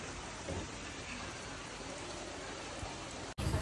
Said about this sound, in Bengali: বাইরে বৃষ্টি শুরু হয়েছে